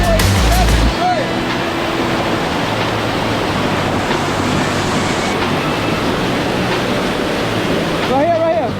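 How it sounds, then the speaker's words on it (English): Water cascades steadily down the rocks of Dunn's River Falls in Jamaica, a loud, continuous roar heard close up throughout, with a brief voice-like tone near the start and end. "You have water coming down here and you can barely see your footing."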